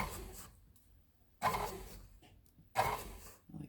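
A kitchen stand mixer starts slowly on a zucchini bread flour mixture, giving two short bursts of mechanical whirring and creaking separated by quieter pauses, close by with no talking.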